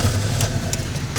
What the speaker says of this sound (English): crank the engine started